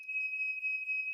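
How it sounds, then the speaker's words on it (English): A building's smoke alarm blares one continuous, piercing high-pitched tone, loud and steady from start to finish, with no voices over it. "That is the smoke alarm."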